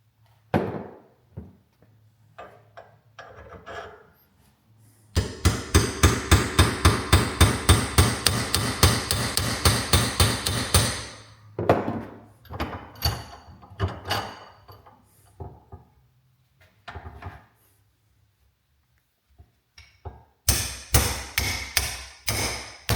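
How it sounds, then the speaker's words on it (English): Rapid hammer blows drive a Jeep door hinge pin into place in a vise, a dense run of sharp metallic strikes followed by scattered knocks, then another quick burst of hammering at the end. "A little bit of hammering, that thing went in there."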